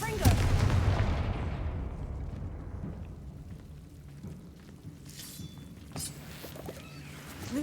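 Confringo fire spell explosion in the Hogwarts Legacy video game, a loud booming blast at the start that rumbles and decays over several seconds, followed by scattered faint crackles and magical effects.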